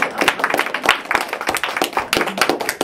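An audience claps after a personal story, a dense run of many hands striking together close and steady for a few seconds, with no voices over it.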